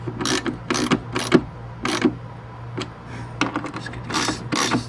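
A wrench works the terminal nuts on a LiFePO4 battery, making a quick series of close, sharp ratcheting clicks in short bursts with brief pauses, over a steady low hum, and no speech.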